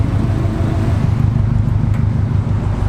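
A Honda Accord fitted with Godspeed front upper control arms cruises along the road, with loud, steady engine drone and road rumble filling the cabin without a break.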